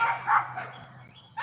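Dogs bark at a woman walking past on a street, several loud yapping barks in two bursts, close by, with a quieter gap between them.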